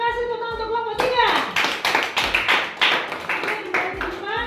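A classroom of elementary school students claps for a few seconds, the applause rising quickly and tapering off, with voices talking before and after.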